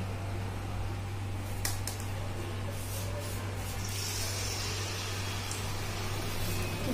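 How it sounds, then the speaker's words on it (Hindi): Corn kernels fry in hot oil in a pan over a medium flame, giving a steady broad hiss with a low hum beneath and a few faint crackles. "इसमें हम अपने कॉर्न फ्राई कर लेंगे।"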